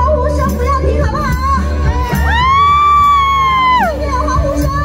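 Crowd at an outdoor temple stage show in Tainan cheering and whooping, with high sustained shouts rising over a busy, loud background of voices and amplified sound.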